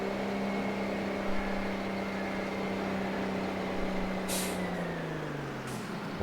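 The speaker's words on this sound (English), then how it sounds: "Wow, it's got decent brakes as well" A truck in Farming Simulator 22, driven on the flat Dutch Gelderland map, hums with a steady engine tone that winds down as it slows, then lets out two sharp air brake hisses near the end.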